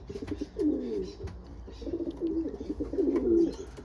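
Racing pigeons coo at the loft after a race, low throaty rolling calls repeating in two or three close bursts, fairly near and steady with faint background noise.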